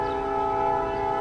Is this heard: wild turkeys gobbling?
no